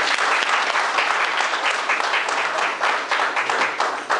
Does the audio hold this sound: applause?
yes